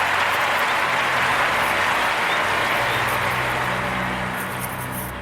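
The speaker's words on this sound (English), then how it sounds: "Kanye, round of applause for him" Sustained, dense applause fills the room steadily for a few seconds, loud and even, easing slightly toward the end, with no talking over it.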